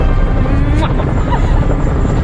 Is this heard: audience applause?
no